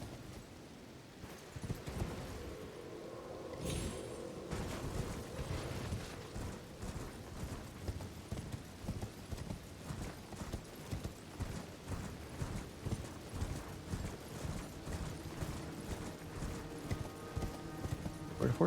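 Horse hooves clip-clop steadily in Elden Ring, a rhythmic run of close, regular hoofbeats lasting throughout with a game soundscape behind.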